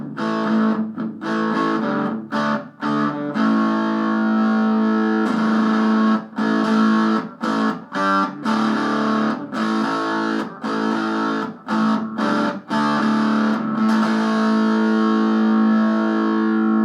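Gritty, crunchy electric guitar riffs through a Roberts reel-to-reel tape recorder used as a preamp, played up close, choppy chords and short bursts with small pauses, warm and saturated throughout.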